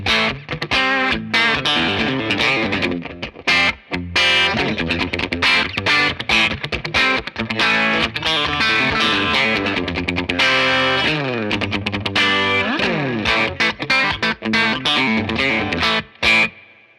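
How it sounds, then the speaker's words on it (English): An electric guitar plays through an Empress Compressor MkII pedal set to a slower attack, giving a dense, distorted, chorus-tinged tone with punchy, bright strummed chords and fast riffs, loud and continuous for about seventeen seconds with brief gaps. "if I open up the attack a little bit, I make it a little bit slower, it's gonna sound a little bit more punchier"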